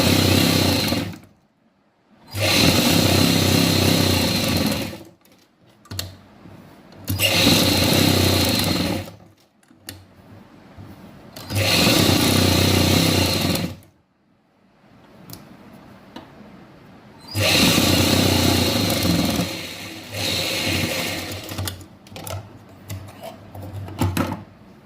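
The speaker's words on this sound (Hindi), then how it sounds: "अब हम इसको यहाँ से चारों साइड सिलाई लगा देंगे।" An electric sewing machine stitches a salwar in several loud, steady runs of fast mechanical whirring, each lasting a few seconds and separated by short near-silent pauses.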